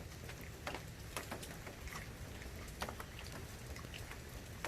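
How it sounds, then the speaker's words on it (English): Rain falls steadily outside, a soft continuous patter with scattered sharper drops striking a surface, fairly faint with no voices. "Come on, it's raining."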